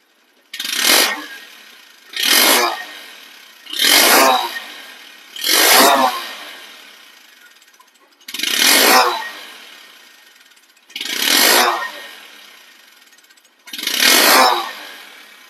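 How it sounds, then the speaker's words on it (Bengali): Motorcycle engine revved in seven separate bursts, each rising sharply and falling back to a quiet idle, spaced about two seconds apart, loud and close with no talking. "বাইকটির সাউন্ড কোয়ালিটি আমি নিজে প্রমাণ"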